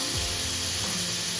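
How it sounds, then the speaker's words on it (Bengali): Paneer frying in hot oil with a little salt, a continuous close sizzle and crackle with no talking. "পনিরটা ভেজে নিচ্ছি একটু নুন দিয়ে"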